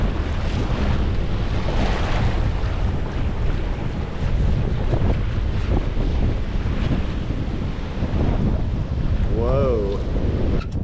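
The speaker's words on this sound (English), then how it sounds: "Look at those swells coming across the reef." Ocean swells break across a reef off Belize in a continuous, loud, rushing roar heavily mixed with wind buffeting the microphone.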